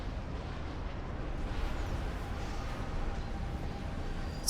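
Tactical missile launcher strikes in Supreme Commander: Forged Alliance rumble as a dense, steady wash of distant explosions and battle noise, loud and continuous with no distinct pauses.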